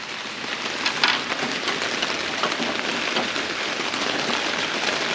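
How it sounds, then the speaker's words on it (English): Steady rain pours down outdoors, making a continuous, fairly loud hiss of drops hitting surfaces with no pauses and no voices over it. "I don't know how well you can hear me over the rain."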